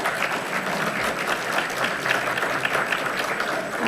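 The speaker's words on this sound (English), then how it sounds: "Let's give our DPW people a hand of applause." Audience applause for city public works staff at a beautification awards ceremony, steady dense clapping throughout, moderately loud with no talk over it.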